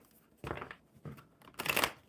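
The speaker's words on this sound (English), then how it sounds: "One more good shuffle." A deck of cards is shuffled in three brief, papery bursts, the last the loudest, recorded close up and quiet, with no voices.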